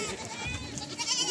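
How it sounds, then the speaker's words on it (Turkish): Goats and their kids bleat as they reunite, a faint, busy jumble of overlapping animal cries with someone talking over them for about a second. "Keçilerimiz, oğlaklarımız buluşuyor."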